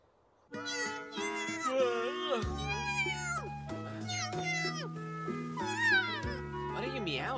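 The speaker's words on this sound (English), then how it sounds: "What are you meowing at so early?" An anime cat meows repeatedly, rising and falling calls over a steady musical backing, fairly loud and close.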